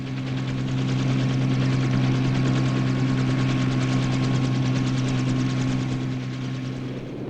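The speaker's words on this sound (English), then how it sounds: "The biggest helicopters carry 10-ton artillery pieces to remote encampments called firebases." A loud large military helicopter drones close by during the Vietnam War, its rotor thumping in a steady rapid rhythm over a deep, constant engine hum.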